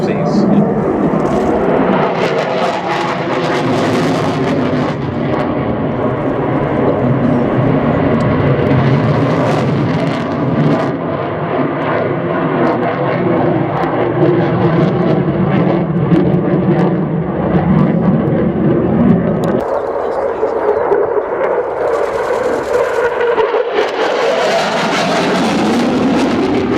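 An F-16 fighter jet flying at the RIAT 2014 airshow, its engine roaring steadily and rising and falling in pitch as it passes, with someone commentating over the noise throughout.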